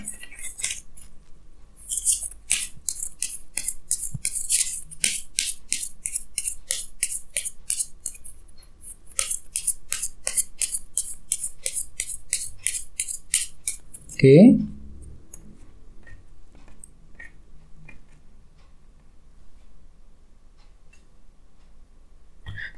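Tarot cards riffle and slap together in a rapid, crisp patter of close shuffling, broken by pauses, followed by a short soft thump and rustle as cards drop onto a surface, then near silence.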